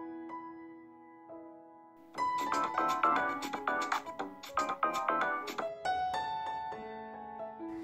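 A phone call rings out unanswered, a repeating ringback tone starting quietly and then swelling into a louder melodic ringtone that keeps cycling for several seconds without pickup.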